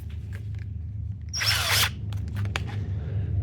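A short burst of a DeWalt cordless power drill whirring for about half a second amid quiet room noise, followed by a few faint clicks.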